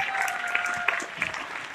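An audience at an awards gathering claps for an honoree in a brief burst of steady, fairly close applause.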